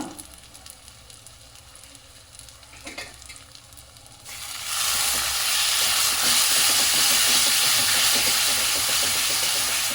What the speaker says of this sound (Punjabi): ਜੇ ਆਪਾਂ ਮਸਾਲਾ ਚੰਗੇ ਤਰੀਕੇ ਨਾਲ ਭੁੰਨਾਂਗੇ